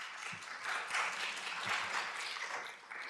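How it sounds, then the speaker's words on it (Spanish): A crowd at a community event in Guadalajara, Mexico claps in a moderate, continuous wash that swells and eases slightly, heard at a low level and somewhat distant. "Les damos un aplauso"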